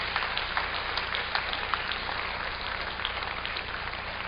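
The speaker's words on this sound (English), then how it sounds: "maybe we could give her a big applause" Audience applause after a Dharma talk, a steady dense patter of many hands clapping that holds evenly at moderate loudness throughout.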